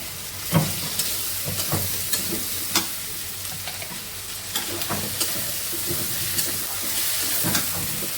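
Ginger garlic paste and onions sizzle steadily in a pan, close by, while a spoon clacks and scrapes against the pan at irregular intervals.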